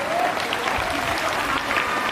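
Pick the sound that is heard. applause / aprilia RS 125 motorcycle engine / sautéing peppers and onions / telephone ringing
applause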